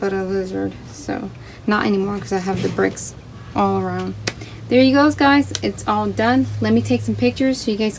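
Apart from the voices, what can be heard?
No distinct noise like a dog, phone or traffic.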